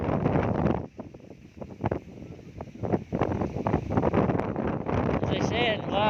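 Strong wind buffets the microphone at a beach cove on a windy day, a steady roar broken by gusty dips while a person talks over it.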